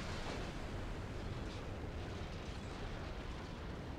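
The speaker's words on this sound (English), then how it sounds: "Why the hell did you have an ammo explosion?" A battleship's ammunition magazine explodes in the naval video game Ultimate Admiral: Dreadnoughts, a loud, sustained roaring blast with dense rumble that holds steady for several seconds without any talking.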